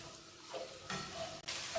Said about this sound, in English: Once you put your oil in and then just put your okra in, the bhindi.